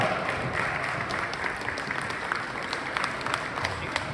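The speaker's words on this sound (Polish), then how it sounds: "Brawa!" Audience applause at a Polish stage performance of a song, steady dense clapping that holds fairly loud and even through the whole stretch with no voices over it.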